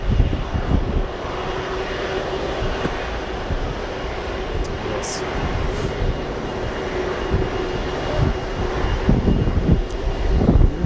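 The Turkish president's plane arrives at an airport, with a steady, loud jet engine roar close by that stays constant throughout and has no voices over it.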